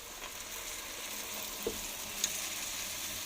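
Cabbage frying in a pan gives a faint, continuous crackling sizzle with a couple of soft clicks and no voices.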